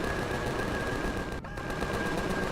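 Turret machine guns on a hovercraft in Empyrion fire in a continuous rapid stream of shots with a brief break midway, close and fairly loud against a steady mechanical hum.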